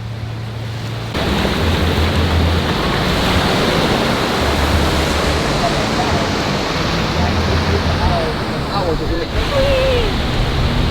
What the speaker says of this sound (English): the wind's really coming down this afternoon, but it's a good day at the beach no matter what